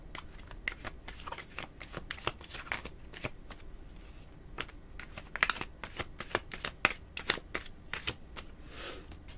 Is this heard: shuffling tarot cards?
yes